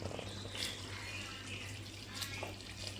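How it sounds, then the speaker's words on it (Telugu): Boiled water is poured into a pot of mutton pulao, giving a faint steady splashing stream at close range with no talking. "నీళ్ళు బాగా కాగినాయి ఎత్తి దాంట్లో పోస్తా ఉన్నాను"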